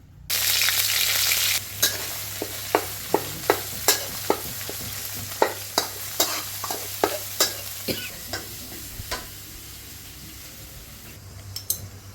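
Southern Thai curry paste stir-fries in a hot pan, a loud sizzle punctuated by a rhythmic series of sharp spatula strikes and scrapes, fading quieter toward the end.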